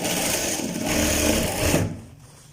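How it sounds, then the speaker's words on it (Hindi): Sewing machine running steadily while stitching stretched elastic into a child's pajama waistband, a close, continuous whir that stops abruptly near the end. "इस इलास्टिक को खींच के सिलाई लगानी है"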